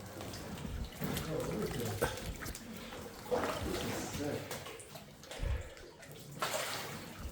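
A raft is paddled through water in a flooded abandoned mine, with sloshing, splashing strokes that echo in the enclosed space, along with some speech.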